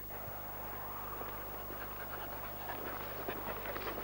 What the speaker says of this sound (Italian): Un cane.